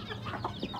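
Chickens clucking in a farmyard of Aseel and other fancy fowl, a steady close mix of soft clucks with a couple of sharper calls over continuous low background noise.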